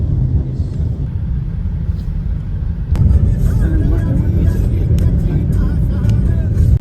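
Interior of a moving car carrying passengers, a steady low engine and road rumble throughout, with a sharp click or door-like thump partway and small rattles after, no voices evident.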